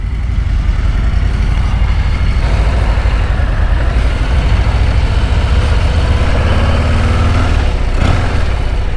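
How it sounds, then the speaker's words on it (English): Engine of a 2023 Harley-Davidson Low Rider ST motorcycle: a loud, continuous heavy rumble with deep low-end throb, steady throughout from close by with some wind noise and no speech. "we're riding the 2023 Lowrider ST"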